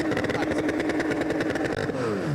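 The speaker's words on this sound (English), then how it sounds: "let Ariel Levy rev the engines there" Porsche sprint race car engines rev loudly at Estoril, a dense continuous roar with pulsing throttle and a falling pitch toward the end, close and dominant.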